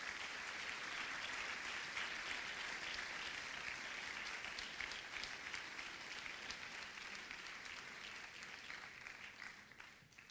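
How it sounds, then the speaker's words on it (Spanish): A church congregation gives a round of applause as an offering to the Lord, many hands clapping steadily and continuously, heard fairly faint and distant throughout. "dele usted una ofrenda de palmas al Señor"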